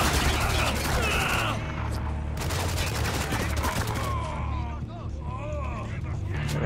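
Enemy gunfire in the war shooter game Spec Ops: The Line, bursts of rapid shots in a busy firefight with engine-like rumble underneath and a voice talking over it.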